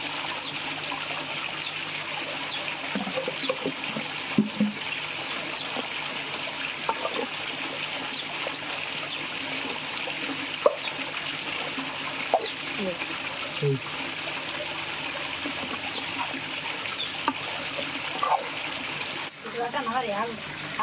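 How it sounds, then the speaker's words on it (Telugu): Water is poured into chicken curry as it cooks in a pot, giving a steady, continuous trickle that runs the whole length with a few faint background sounds. "ఇప్పుడు నీళ్ళు పోయాలి ఎంత గ్లాస్ గ్లాసున్నర అట్లా పోయాలి"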